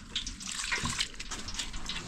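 Rice being washed by hand in a basin of water, with close, steady sloshing and trickling that runs continuously for about two seconds and has no talk over it.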